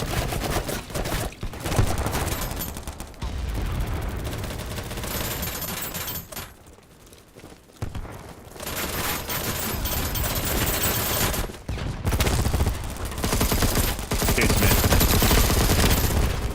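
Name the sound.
gunfire from the video game BattleBit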